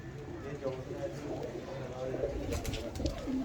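Pigeons at a breeder's loft, including grey birds, coo softly and repeatedly over a steady background murmur, with people talking nearby.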